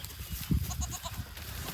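Goats and sheep bleating in a farm herd, several overlapping calls a short way off over steady outdoor background noise and low rumble.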